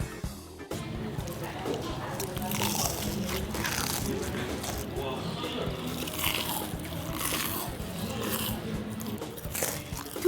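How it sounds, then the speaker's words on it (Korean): Japanese-style fried fish cake and an assortment of other batter-fried foods crunch loudly with each bite, crisp crackling bursts repeating steadily in close focus while a voice talks over the chewing and a busy background. "두 귀를 홀리는 어메이징한 소리에 한 입 두 입 튀김이 계속 들어가."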